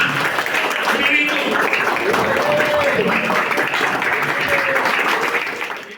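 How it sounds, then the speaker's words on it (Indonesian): Audience applause at an Indonesian lawyers' event, a dense, sustained wash of clapping from a crowd that holds steady before tapering at the end, with a voice speaking over it. "Kita berikan aplaus yang meriah Ibu Zemi SH."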